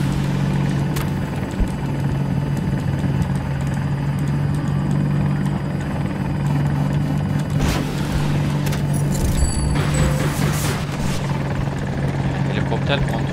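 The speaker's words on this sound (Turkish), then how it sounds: "Helikopter kontrolü birazcık zor." Helicopter engine in the video game Battlefield 2042, a loud steady rotor and turbine drone running throughout with occasional game effects and clicks over it.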